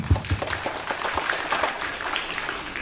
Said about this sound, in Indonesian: Tepuk tangan buat beliau semua.